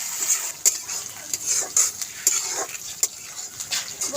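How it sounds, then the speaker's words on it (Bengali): Cumin and fennel paste frying in a pan with chopped onion and chilli, a steady close sizzle broken by repeated short scrapes and clinks of a stirring spoon. "ভালো করে ভাজা ভাজা করে দেব।"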